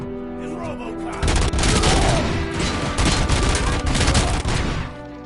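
Gunfire in the video game RoboCop: Rogue City, a loud sustained burst of rapid shots and booms lasting several seconds after a quieter opening, then cutting off.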